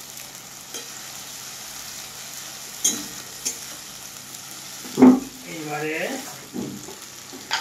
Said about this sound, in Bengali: আদা রসুন বাটাটাকে এইভাবে একটু চালাই